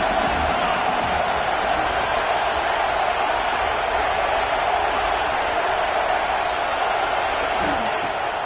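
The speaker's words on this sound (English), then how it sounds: "this crowd is turning it up a notch" Large football stadium crowd at an Arkansas game before a second-down play, a broad constant roar holding loud and dense throughout without breaks.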